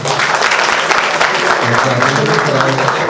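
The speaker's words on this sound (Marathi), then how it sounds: "आपण सर्वांनी टाळ्या वाजून" Sustained applause from an audience at a political gathering in Pimpri-Chinchwad, where a city party president is appointed; dense, steady clapping fills the whole stretch, with voices faintly mixed underneath.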